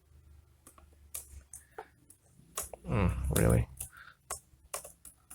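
Clicky computer keyboard keys tapped in short irregular bursts at close range while coding, with someone talking over and between the keystrokes.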